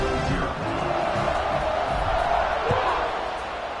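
The home crowd at a college football game between JMU and Kentucky gives a steady, broad roar of cheering throughout, with a commentator's voice running over it.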